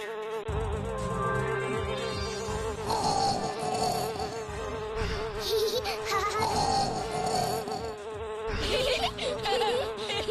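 Cartoon bees buzzing in a Bengali animated series, a loud close drone with wavering pitch that swells and shifts continuously over a music bed, with no talking.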